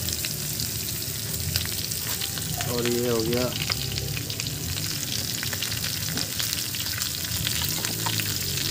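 Onions fry and are stirred in a pan for a village-style pork and gourd curry, a steady loud sizzle with scraping stir strokes throughout and a brief spoken phrase near the end.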